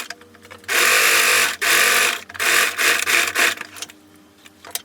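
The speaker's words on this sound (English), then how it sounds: "I'm going to go ahead and sew it close" A sewing machine sews a dress sleeve closed, loud and close in several bursts of rapid stitching that stop and start, with quieter handling noise between.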